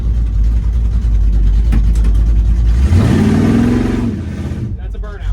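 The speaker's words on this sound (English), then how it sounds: "That's a burnout." The engine of a junkyard 1970 car revs hard during a burnout, a steady loud drone climbing sharply in pitch partway through, then easing off, with people talking over it.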